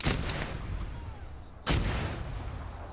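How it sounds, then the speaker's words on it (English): Mortar rounds pound in an online war game, two heavy booming impacts about a second and a half apart over dense battle rumble, the second blast close and loud. "they're mortaring us"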